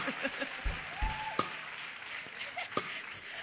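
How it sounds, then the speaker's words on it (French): A church congregation clapping during worship, a faint and distant wash of many hands with a few sharper claps standing out, heard in a reverberant hall. "Clap unto the Lord."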